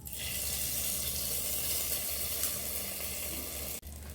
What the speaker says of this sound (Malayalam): ഇതിലേക്ക് കുറച്ച് വറ്റൽമുളകും കറിവേപ്പിലയും ചേർത്ത് കൊടുക്കാം